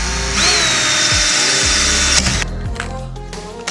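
Power drill boring holes into a Honda CRF450RL accessory panel, a loud high-pitched whine that bites and rises in pitch, then cuts out into rattling handling noises and brief motor bursts.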